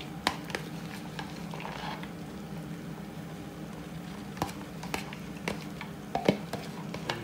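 Minced meat fries and is stirred in a frying pan for chilli con carne, a faint steady sizzle broken by scattered scraping clicks and spoon knocks, with no talking.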